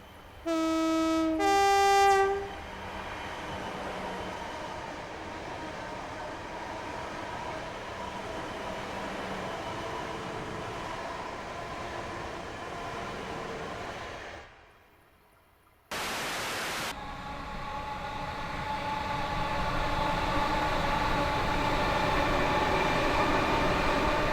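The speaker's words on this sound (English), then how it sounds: "here's a Class 444 hauling a Class 450 instead" Class 444 train hauling a Class 450 on the Brighton Main Line in the video game Train Sim World 4: a two-tone horn blast opens, then a steady rumbling run with a brief cut to near silence before the wheel and motor noise resumes louder.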